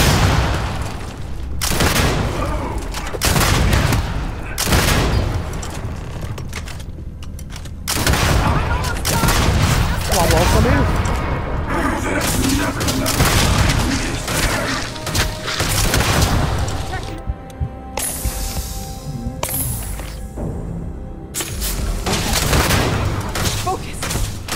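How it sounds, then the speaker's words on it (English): Gunfire in the sci-fi video game Starfield, loud bursts of rapid shots and booming impacts in dense clusters with short gaps, while voices talk over the shooting at times. "Bullets are bouncing right off"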